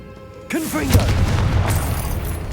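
A Confringo spell blast in Hogwarts Legacy lands as a single loud, booming explosion with a swooping magical whoosh, then a rumbling, crackling tail that keeps going to the end.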